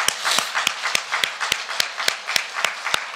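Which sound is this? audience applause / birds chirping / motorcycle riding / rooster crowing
audience applause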